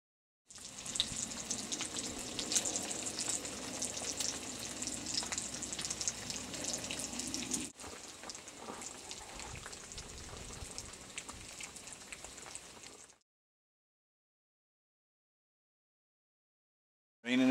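Rain falling at a turkey hunting camp, a dense steady patter and hiss on surfaces, close and fairly loud, easing slightly partway through before stopping abruptly.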